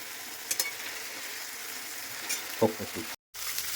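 Masala sautéing in a pan for potol chingri, a soft steady sizzle with a few sharp spatula knocks and scrapes against the pan, close up, briefly cut to silence near the end.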